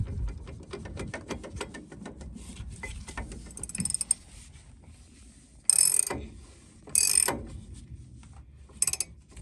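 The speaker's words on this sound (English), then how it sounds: "we'll do the rest with a torque wrench" Ratcheting clicks of a torque wrench tightening the brake caliper bolts on a 2011 Dodge Ram 1500 front brake, with mechanical clicking through the clip and three louder bursts near the end.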